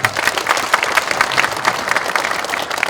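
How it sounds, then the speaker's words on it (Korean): An audience at a research institute opening ceremony claps in a brisk, rippling round of applause, individual hand claps audible within the steady crowd sound and no voices on top. "다시 한번 그분들에게 큰 박수를 부탁드립니다."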